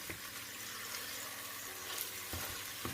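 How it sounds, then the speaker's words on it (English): Seafood okra soup being stirred in a pot over medium heat, giving a steady low bubbling simmer with soft scraping and a brief louder stir near the end, no talk. "you have to continue stirring it to avoid burning"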